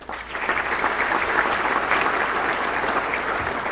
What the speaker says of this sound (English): please, another round of applause for the Clovis High leadership